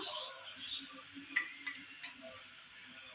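Crushed chili dropped into masala frying in a pan in a Kerala kitchen, a quiet steady sizzle with a sharp clink and light stirring.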